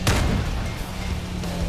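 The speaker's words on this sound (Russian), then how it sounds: "Я ему одним выстрелом все эти отстрелил" A single loud cannon shot fires in the vehicle combat game Crossout, a ZIS-34 build, with a sharp boom at the start followed by a rumbling decay and low engine drone.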